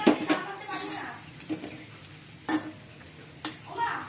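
Fish curry cooks in a pan on a home stove, with a soft sizzle broken by several sharp clinks and scrapes of a utensil against the pan.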